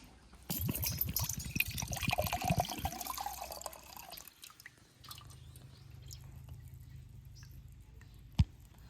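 Coconut water trickles and drips from a drilled coconut into a pot, a close splashing stream for about three seconds that thins to faint drips over a low hum, ending with one sharp tap.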